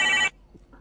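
A telephone ringing during a Valorant gaming stream, a loud steady electronic ring lasting a fraction of a second before cutting off to near silence.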